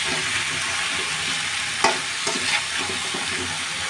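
Flat beans and potatoes fry in a spiced masala with a dense, continuous sizzle, while a utensil scrapes and taps the pan a few times as it is stirred.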